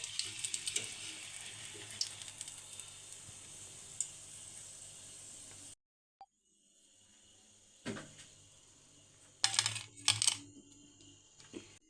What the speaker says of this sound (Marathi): आता हे वडे आपल्याला मस्त असे तांबूस रंग येईपर्यंत तळून घ्यायचे आहेत